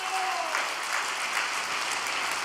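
Applause from a church congregation, a dense, even wash of clapping at moderate volume that carries on steadily without talk over it.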